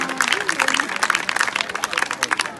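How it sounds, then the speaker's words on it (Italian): An audience applauds at a presentation with dense, steady clapping close by, while a voice briefly sounds under it at the start. "quindi penso che meriti un applauso"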